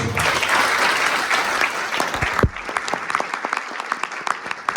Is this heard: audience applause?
yes